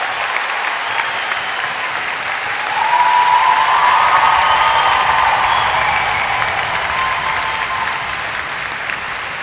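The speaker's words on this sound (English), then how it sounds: "let's have another round of applause and make some big noise" A crowd at a University of Dundee honorary doctorate ceremony breaks into a round of applause, dense steady clapping that swells after a few seconds with some cheering mixed in, then holds and eases slightly toward the end.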